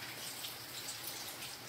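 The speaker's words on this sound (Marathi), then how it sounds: "आता तुम्हाला क्लिअर दिसत असेल पाऊस पडतोय" Rain falls outside a house as a soft, steady hiss of drops, faint and distant, with no other sounds.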